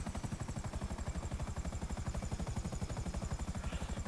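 Helicopter flying in a video game, a loud, continuous rapid rotor chop with steady pulsing beats and no talk.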